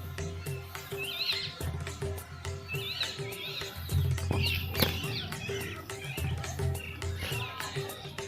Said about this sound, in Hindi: आप चिड़ियों की चहचहाने की आवाज़ सुन रहे होंगे